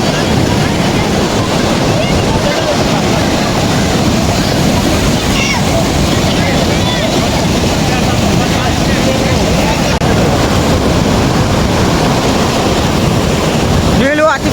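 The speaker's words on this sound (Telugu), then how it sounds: "నీళ్ళు అతి ప్రెషర్గా వస్తున్నాయి ఇక్కడ." Water gushing under high pressure at the Kohli Sagar dam project, a loud, steady broadband roar with wind buffeting the microphone, continuous throughout with no pauses.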